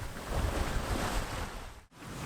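Sea waves surging and washing steadily around a sailing boat at sunset, a broad continuous rush with wind noise, briefly dipping near the end before swelling again, with no voices.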